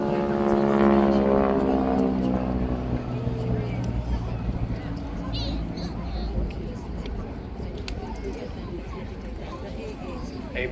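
North American Texan propeller trainer aircraft flying at an airshow, a loud droning piston engine and propeller roar that slowly fades, with someone talking over it throughout.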